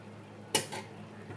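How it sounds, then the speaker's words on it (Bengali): A metal lid set down on a pot of mutton kosha simmering over a low gas flame: one sharp clank, then a softer rattle as it settles, close and alone. "এবার মাংসটা লো ফ্লেমে ঢাকা দিয়ে দিচ্ছি।"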